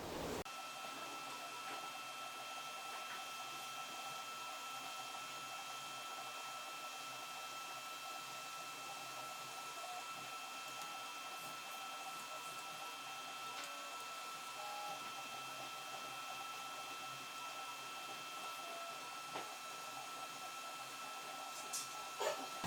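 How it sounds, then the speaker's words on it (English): A 3D printer hums and whines steadily at low volume for the whole stretch, with faint stepper-motor tones and occasional small clicks. "That fox skull head we've sent to the 3D printer"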